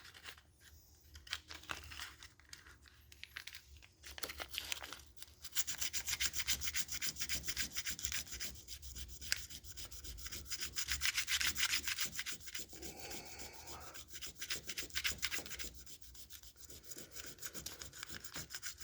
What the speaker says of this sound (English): I'll sand it down here until that blue disappears